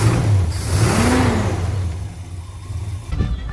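A GMC C20 Custom pickup truck engine revs up loud and close, its pitch sweeping up and back down before settling into a rough idle, with another short blip near the end.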